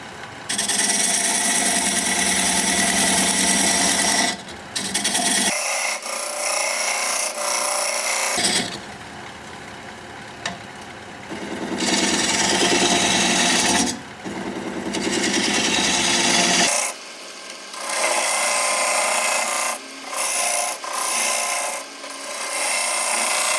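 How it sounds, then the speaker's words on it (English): A diamond point tool cuts a spinning live oak workpiece on a wood lathe. It makes loud, raspy scraping in repeated bursts of a few seconds each, with quieter gaps as the tool lifts off and goes back in. "Now I'm going to use this diamond point tool to square up the sides of the tenon."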